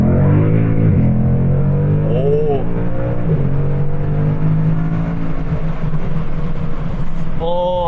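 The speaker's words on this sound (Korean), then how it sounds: "이제 살짝의 배기음을 들려드리기 위해서 창문은 조금만 열도록 하겠습니다." Ford Mustang 5.0 GT V8 exhaust heard from inside the cabin with a window slightly open, accelerating hard down a straight, engine note climbing steadily with rising pitch sweeps at gear changes, loud and continuous.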